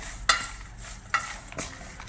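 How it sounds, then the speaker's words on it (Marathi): French fries are tossed with red chilli powder and chaat masala, three short scraping stir sounds against a pan or bowl at an uneven pace, close and fairly quiet. "चाट मसाला टाकायचा आणि मिक्स करून घेऊया"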